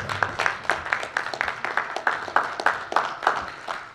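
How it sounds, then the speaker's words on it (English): Steady audience applause at a millennial voter activism town hall, dense, even clapping from a crowd for the panelists, loud and continuous throughout with no talk. "esteemed panelists, a great round of applause."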